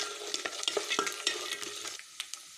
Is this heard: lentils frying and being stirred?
yes